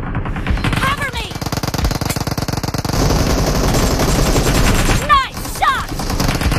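Rapid automatic gunfire in the video game PUBG, with dense bursts of shots, close and loud, broken by brief sweeping game effects and voice lines over the shooting.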